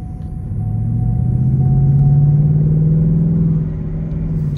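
A stock 2021 Ford Mustang GT V8 accelerating hard, its engine note rising in a steady, loud drone with a tonal whine climbing over about four seconds before easing slightly, heard from inside the car with no talking.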